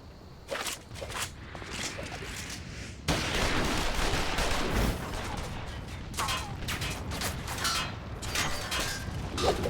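Gunfire during a cutscene in the video game Final Fantasy XIV: Stormblood, rapid volleys of shots crackling alongside mechanical clanks and creaks, moderately loud, with a sharper burst partway through.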